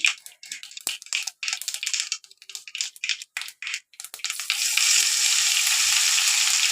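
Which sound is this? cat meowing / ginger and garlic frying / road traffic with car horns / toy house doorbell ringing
ginger and garlic frying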